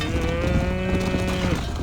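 Cattle herd lowing in the video game Red Dead Redemption, a few drawn-out moos rising over steady ranch ambience, fairly close and loud, with no talk.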